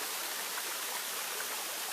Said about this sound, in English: here we are then at the top of Kemback Waterfall